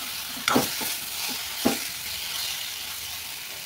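Soy chunks and potatoes frying in a hot pan give a steady, moderately loud hiss, broken by two or three short clanks of stirring near the start.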